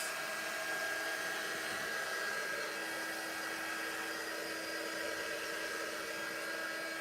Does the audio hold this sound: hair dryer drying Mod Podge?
yes